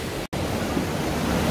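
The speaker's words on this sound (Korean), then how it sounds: "바로 위에 폭포가 있고" A waterfall above a deep pool in the Jijangsan mountain valley rushes as a steady, broad hiss that continues unbroken after a momentary cut.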